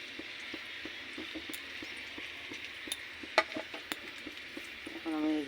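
Spice paste frying in hot oil, a steady broadband sizzle running throughout with scattered small crackles and clicks, moderately loud and close, ending with a brief louder burst of stirring.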